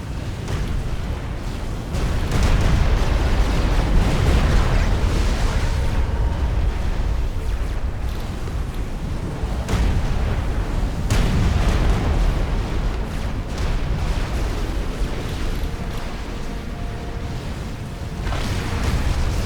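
Battleships shelling an enemy from long range in the strategy game Supreme Commander, a continuous barrage of heavy booms and rumbling explosions that overlap and surge in waves, with no talk.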